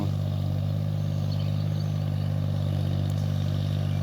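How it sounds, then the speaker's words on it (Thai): A tractor plows and puddles a rice paddy into mud, its engine holding a loud, steady mid-pitched drone with a faint clatter, close and continuous. "ไถย่ำย่ำให้มันเป็นโคนตม"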